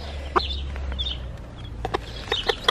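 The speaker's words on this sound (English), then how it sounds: "She goes cluck, cluck, cluck, cluck." A mother hen calls her chicks with repeated soft clucks, close by, mixed with brief sharper bird sounds over a low steady farmyard hum.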